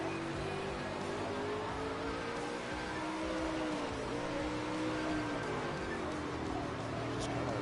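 Several race cars in a racing video game league, their engines droning continuously with wavering, overlapping pitches as the field circulates, fairly quiet and steady throughout.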